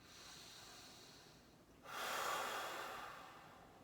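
Slow deep breathing during a full-body mobility stretch, a quiet inhale followed by a louder, longer exhale through the nose, close and soft with no talking.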